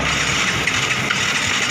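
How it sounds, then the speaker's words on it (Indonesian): A motorcycle engine, a small X-Ride model, idles steadily just after starting, a continuous close rumble with a slightly uneven pulse and no voices over it. "dihidupkan motornya"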